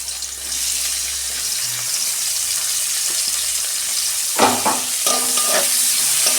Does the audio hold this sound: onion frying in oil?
yes